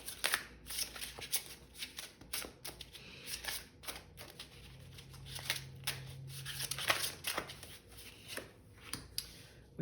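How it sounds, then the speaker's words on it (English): Tarot cards being shuffled by hand: a steady run of crisp, papery riffles and flicks, close and fairly quiet, continuing for the whole stretch with no voice over it. "So we're gonna pull some advice cards as well."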